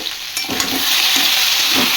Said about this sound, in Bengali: আলুটা ভাজা হয়েই এসেছে